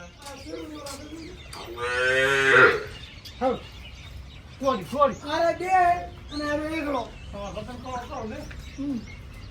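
A Kankrej cow at a cattle fair in Banaskantha gives a loud, drawn-out moo amid nearby people talking and faint bird chirps.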